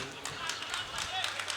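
An audience at a mushaira claps faintly in scattered, quick beats, distant and quiet.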